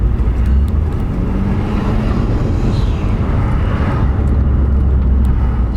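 A turbocharged car engine pulling hard under acceleration, a loud continuous roar heard from inside the warmed-up car, steady and dense throughout with no speech.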